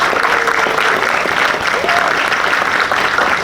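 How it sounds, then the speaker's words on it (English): A crowd at a Pride flag raising ceremony applauds loudly and steadily, a dense wash of clapping with a few faint voices mixed in throughout. "Let's give them a huge round of applause."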